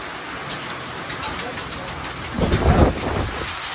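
Heavy rain mixed with hail pounds down during an intense summer hailstorm and windstorm, a dense steady roar with a deeper, louder surge of impacts near the end, and a voice murmuring faintly beneath.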